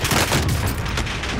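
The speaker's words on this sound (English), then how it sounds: "I'm doing airstrike." A dense, roaring boom from an airstrike in Call of Duty: Modern Warfare Warzone, loud and continuous with rumbling low end and overlapping blasts, no talk.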